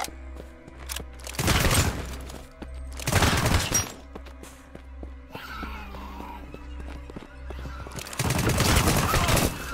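An AKM rifle fires in the zombie survival game Deathly Stillness, three loud sustained bursts of automatic fire separated by quieter stretches of ambient game sound.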